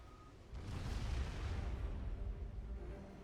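A big explosion in the real-time strategy game Supreme Commander: a sudden low, rumbling boom that swells and lingers for a couple of seconds, heard without voices.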